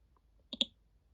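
A computer mouse clicks twice in quick succession, a crisp double click, close and otherwise quiet.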